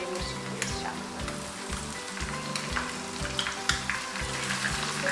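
Garlic-ginger paste and green chilli paste fry in a pan for a chicken curry, giving a steady, crackling sizzle with occasional sharper pops and a low, pulsing hum beneath.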